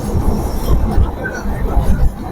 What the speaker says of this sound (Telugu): మనం రోడ్ కమ్ రైల్వే బ్రిడ్జ్ లో ఉన్నాం అనమాట.